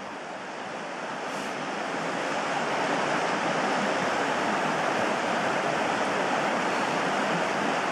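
A creek flows nearby in a steady broadband rush, loud and constant, swelling slightly in the first seconds and then holding level with no voices.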